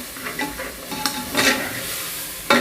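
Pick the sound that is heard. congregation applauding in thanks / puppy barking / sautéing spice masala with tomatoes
sautéing spice masala with tomatoes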